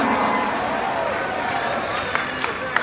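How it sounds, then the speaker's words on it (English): Convention audience in Las Vegas applauding steadily, a dense continuous wash of clapping with a few sharper claps standing out near the end. "give him a tremendous round of applause"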